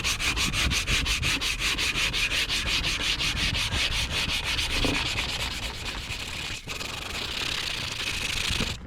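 Steady rhythmic scrubbing of a chrome hub cap on a Cub Cadet 782 garden tractor, rubbed with crumpled tinfoil and WD-40, a continuous close abrasive rasp with fast regular strokes that barely pauses.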